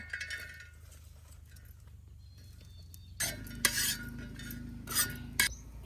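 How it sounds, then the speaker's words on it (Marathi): Grated coconut roasts in a metal pan. A quiet, faint scraping gives way to brighter clinks and stirring clatter of a utensil against the pan, in a few short bursts. "काढून घेतो खोबरं आता भाजून घेतो"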